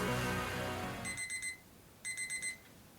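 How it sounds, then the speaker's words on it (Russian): An electronic desk alarm clock beeps in two short bursts of rapid, high-pitched pulses, fairly faint and close, after a fading louder background sound. "Итак, будильник звенит."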